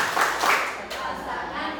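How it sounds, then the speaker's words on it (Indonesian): A group performs the tepuk sakinah clapping chant, with voices chanting over a brisk run of patterned claps at moderate loudness. "coba tepuk sakinahnya. Tepuk sakinah."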